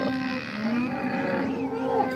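Cows at a cattle market mooing in long, low drawn-out calls, several animals overlapping continuously, close and fairly loud with a busy market background.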